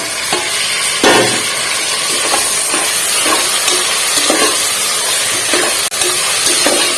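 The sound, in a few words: tomatoes frying in a pan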